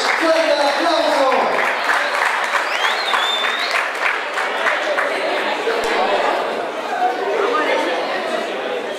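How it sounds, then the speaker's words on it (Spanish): Outdoor crowd at a freestyle rap battle in a plaza applauds steadily, a thick continuous wash of clapping mixed with shouts and chatter, loud and sustained throughout. "Fuerte aplauso."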